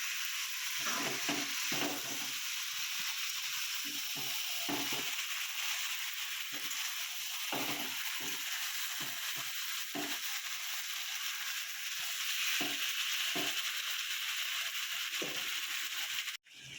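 Duck meat, marinated ten minutes, stirred and fried in a pan for an Assamese-style duck curry with ash gourd: a steady close sizzle throughout, broken by repeated scraping stir strokes and clinks of the spatula against the pan, with no talking.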